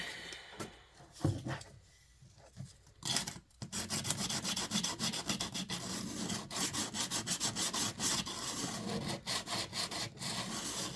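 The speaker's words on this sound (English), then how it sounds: "So I had a bigger block of sandpaper, but we're gonna mini-verse it." Small sandpaper block rubbed back and forth over the ends of a wooden piece for a Christmas diorama, a close, dry rasping scrape in quick repeated strokes after a few scattered handling sounds.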